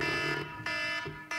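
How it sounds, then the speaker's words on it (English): Electronic alarm sounding during a lecture: repeated loud harmonic beeping tones in short pulsed bursts, close and alone without talk. "It's only my alarm."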